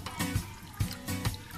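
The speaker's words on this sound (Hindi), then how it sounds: "आप थोड़ा सा पानी डालेंगे एक प्लेट में" A little water being poured onto a plate while cooking, a faint splashing trickle broken into a few short gushes, with no voices.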